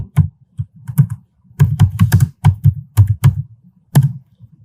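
Bursts of fast typing on a computer keyboard, close and loud, with irregular clusters of key clacks separated by short pauses.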